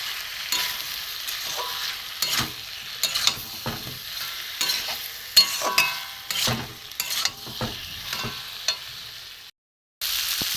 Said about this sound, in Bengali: নিয়ে আমি ভেজে রাখা এঁচোড়গুলো আমি দিয়ে দেবো। একটু কষবো ভালো করে।